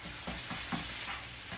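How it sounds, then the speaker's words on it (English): Ground hamburger meat sizzles in a pan while a utensil pushes it around in several rhythmic scraping strokes. The close, steady frying runs throughout. "So now, stir this up again."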